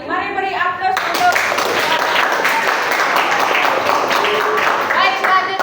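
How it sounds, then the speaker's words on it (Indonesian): An audience applauds after a classroom presentation, a dense burst of many hands clapping that fills the room and carries on steadily, following a brief spoken line. "Mari beri aplaus untuk."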